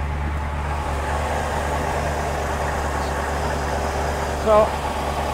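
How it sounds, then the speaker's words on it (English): A 1963 Chevrolet Corvette Stingray split-window engine drones low and steady throughout, idling evenly close by under an open hood, with a brief word spoken near the end. "start it up for us so we can hear it run."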